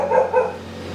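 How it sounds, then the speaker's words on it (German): A dog gives a short bark or yelp close by, a single brief burst with a couple of pulses. It is heard during the assembly of a 3D-IRS band saw. "Ein verwirrter Hund."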